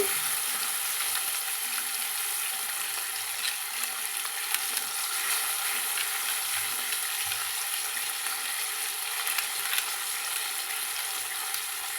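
Ginger garlic paste with ground coriander leaves sautéing in oil on a low flame gives a steady, close, even sizzle that runs unbroken throughout, with no voices.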